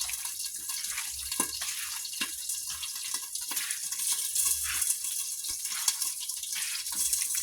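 Tap water runs into a sink as hands are washed in a home kitchen while pork is being prepared, a soft, steady splashing stream with small irregular spatters, moderately quiet and without speech.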